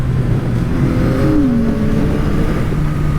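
Porsche cars speeding past on a road heard from a moving motorcycle, a loud constant wind-and-engine roar with an engine pitch sweeping down as one goes by.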